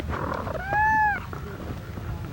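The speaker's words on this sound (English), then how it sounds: "Kitty cat." A house cat lets out a single clear, drawn-out meow close by, rising and falling over about half a second against a low background rumble.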